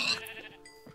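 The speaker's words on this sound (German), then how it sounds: "hier gibt es aber viele, viele Schafe" Sheep in the video game Minecraft bleat several times in close succession, short nasal calls standing alone and fairly loud.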